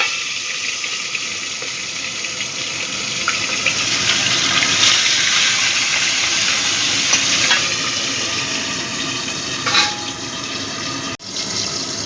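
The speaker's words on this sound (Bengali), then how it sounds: "প্রথমে আমি কাতলা মাছের লেজটা ভেজে নিচ্ছি" Loud, continuous hiss and crackle of a catla fish tail frying in hot oil, close up and steady for a long stretch before stopping abruptly near the end.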